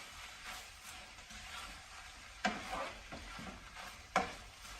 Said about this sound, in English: And you hear that sizzle? That's the sizzle of beauty.